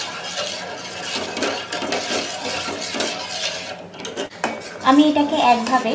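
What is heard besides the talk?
stirring milk in a pot to thicken it for vanilla ice cream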